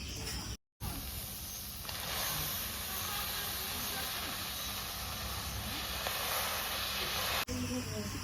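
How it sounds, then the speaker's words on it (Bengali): A continuous, steady sizzling hiss of chopped leafy greens steaming in a dry hot wok, loud and close, with a brief cut near the start. "এবার খালি কড়াইতে একটু শাকগুলো দিয়ে ভাপিয়ে নেবো"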